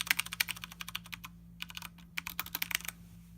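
Rapid typing on a mechanical keyboard with long-travel keys, dense bursts of crisp clicks and clacks in quick irregular rhythm, one brief pause midway, close and alone with no talk.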